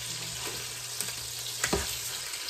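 Pork chops fry in a pan with a constant, close hiss of sizzling fat, broken by a couple of sharp knocks and scrapes as the chops are shifted around.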